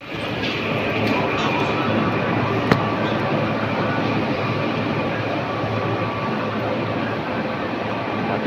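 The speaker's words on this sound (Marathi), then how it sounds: "आता मेट्रो मधून उतरलो आहे" A Mumbai metro train on the Ghatkopar–Andheri line rolls along with a steady, close rumble and hiss, an even mechanical drone that holds without letup apart from one faint click.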